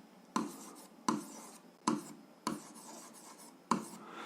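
Pen strokes land in firm, evenly spaced bursts while algebra is written out by hand, about six distinct scratchy marks with short pauses between, close and quiet with no talking.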